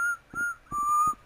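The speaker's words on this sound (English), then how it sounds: "Why is there whistling?" A whistled tune in the Rec Room video game, several short clear melodic notes with brief breaks between them, heard alone at moderate loudness.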